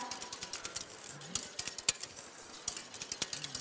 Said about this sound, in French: Et vous fouettez le tout de manière énergique